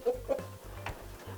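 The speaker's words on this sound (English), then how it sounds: "Brahma is the biggest chicken." A Brahma chicken, a very large ornamental breed, gives soft low clucks in a steady pulsing rhythm, fairly close and alone, with faint higher calls at the start.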